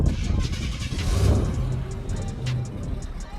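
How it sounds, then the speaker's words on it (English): A 1987 Buick Grand National turbo engine running outdoors, a steady low rumble that swells briefly around the middle, heard close and fairly loud with faint background noise. "I'm gonna start it up so you can hear it run"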